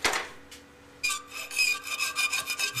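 A hole for a bottle opener is cut and filed into steel from an old saw blade, giving a close, rhythmic rasping of strokes after a brief pause.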